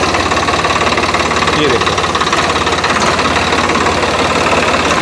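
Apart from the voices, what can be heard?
modified tractor engine idling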